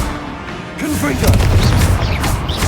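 Confringo spell explosions in the video game Hogwarts Legacy, heavy booming blasts with crackling bursts, loud and close, mixed with a voice casting spells.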